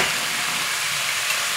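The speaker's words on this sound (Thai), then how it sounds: "กระเทียมของเราเหลืองแล้วเราก็ใส่หมูสับลงไปนิดหน่อยค่ะ" Garlic and minced pork fry in a hot pan with a dense, steady sizzle and hiss, close and loud throughout with no talking.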